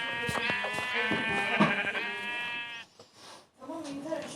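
A Minecraft sheep bleats with a long, wavering, nasal cry over a busy background of game sound effects.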